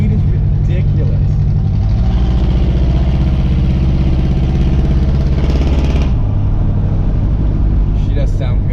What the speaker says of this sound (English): She sounds raspy though because of the running rich, but she has a glass pack mufflers in the back